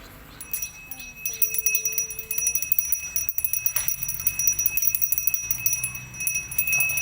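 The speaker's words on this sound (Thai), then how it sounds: "กระดิ่ง" A small bell rings with bright, repeated metallic tones over several seconds, near and moderately loud, mixed with clinking and light background activity beside a young elephant.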